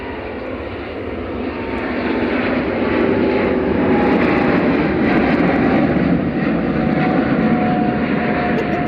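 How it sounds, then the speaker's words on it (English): An Ethiopian Airlines Airbus A350-900, flight 729 bound for Addis Ababa via Geneva, thunders close and loud at Manchester Airport, its jet roar building over the first seconds into a sustained heavy rush. "Heading back to Addis Ababa via Geneva, that's Ethiopian flight 729"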